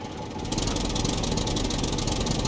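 A tractor engine idles steadily in the survival game SCUM, a low continuous rumble with a faint rattle, close and alone with no talking.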